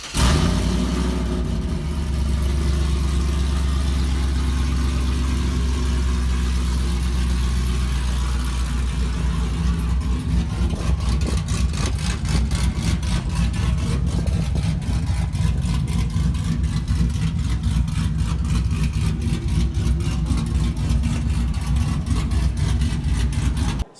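A modified truck engine with an aftermarket camshaft idles close and loud, running in a choppy, loping rhythm that turns into sharp, rapid pulsing partway through, with no one speaking.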